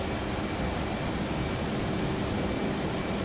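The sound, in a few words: F-18 jet engine at full power, DCS video game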